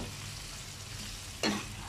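A large green chili being stirred in a frying pan, a steady low background sizzle with one sharp, brief scrape of the utensil near the end, close and alone with no talking.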